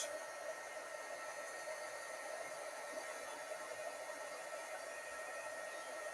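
A heat embossing tool blows hot air to melt embossing powder, making a steady, loud, close whooshing fan roar that holds without a break.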